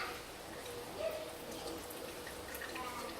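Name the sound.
water rinsing fig seeds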